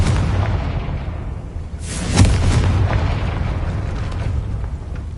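A Confringo spell blast in a Hogwarts wizarding video game: one sudden booming explosion bursts out midway, with a rumbling tail over a steady background of ambient noise.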